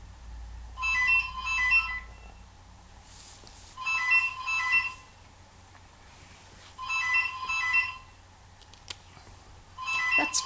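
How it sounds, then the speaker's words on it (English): A phone rings indoors in three repeated electronic trilling bursts, about two seconds each, separated by quiet pauses, with a fourth burst starting at the end. "sorry about the phone"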